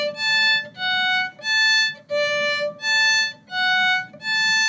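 Violin playing a repeated bowed two-string chord pattern from Handel's Sonata No. 4 in D Major, second movement: seven separate loud, bright strokes in an even rhythm with short gaps between them.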